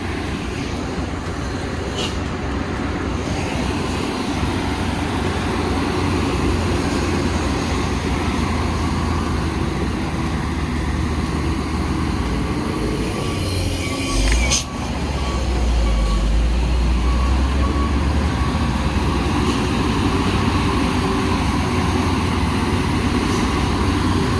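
A loaded truck labors up the steep Sitinjau Lauik mountain road, its engine a steady low rumble close by amid roadway noise, with a brief thump midway followed by a heavier surge of engine sound.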